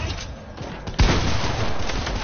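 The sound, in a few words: gunfire in a video game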